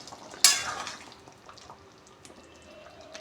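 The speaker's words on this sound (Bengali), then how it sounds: "তরকারি ফুটছে" Potato and jackfruit vegetable curry in a pot, a sharp sizzle as the lid comes off, then a soft, low bubbling and simmering with faint clinks.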